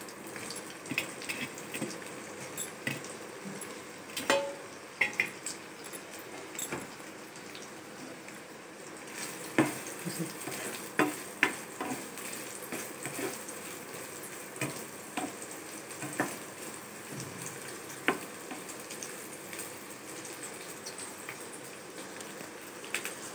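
Soya chunks fry in hot oil, a faint steady sizzle dotted with scattered crackles and pops over about twenty seconds, with no talk.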